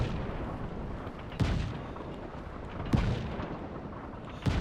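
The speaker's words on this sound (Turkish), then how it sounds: "Şöyle bir top ateşiyle dövelim orayı." Heavy cannon blasts in the video game Just Cause 3, three loud booming shots spaced about one and a half seconds apart over a constant rumble of battle noise, no talking.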